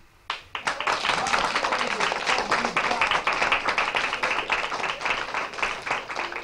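Children in a school theatre performance clap loudly and continuously, a dense, sustained burst of applause that starts abruptly and holds, with voices mixed in underneath.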